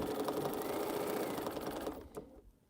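A sewing machine runs steadily, joining quilt rows made from Roll Roll Cotton Boll fabric, a fast continuous whirring that fades out near the end with no talking over it.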